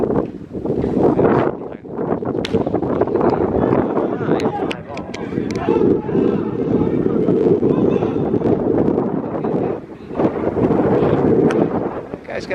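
Strong wind batters the camera microphone at a baseball game in Aruba, a loud rumbling buffet that rises and falls in gusts while someone talks throughout.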